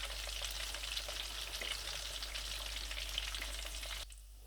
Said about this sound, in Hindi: नगेट्स मैं ऑयल में ऐड करूँगा।